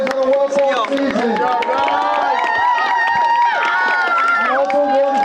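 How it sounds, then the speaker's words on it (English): A crowd cheers for a boys' football team after a well-fought season, many voices shouting and whooping loudly and continuously, with some clapping mixed in. "One more round of applause for these boys on a well-fought season."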